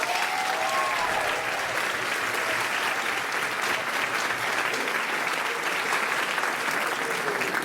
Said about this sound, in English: Please give a huge round of applause to Aloise Miller.